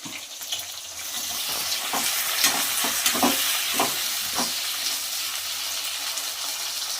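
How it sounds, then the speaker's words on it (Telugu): Onions, with tomatoes to follow, frying in a pan for a home-style Nellore fish curry: a dense, continuous sizzle with scattered stirring clicks and knocks, close and fairly loud. "ఆనియన్ బాగా వేగాక 2 టమాటాలు తీసుకోండి"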